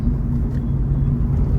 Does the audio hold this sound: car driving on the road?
yes